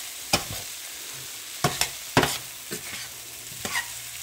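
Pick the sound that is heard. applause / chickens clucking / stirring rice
stirring rice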